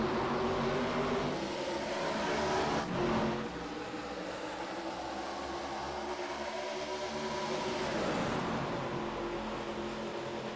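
Race cars in an ARCA series racing video game at Charlotte accelerate together at a restart, a dense wash of engine roar with a car sweeping past midway and another surge near the end, no voices.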